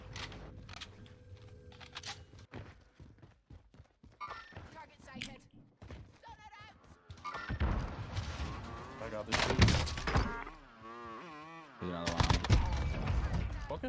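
Gunfire in the Call of Duty: Warzone battle royale with a C58 assault rifle, sharp repeated shots and bursts mixed with footsteps, under constant excited talk from players.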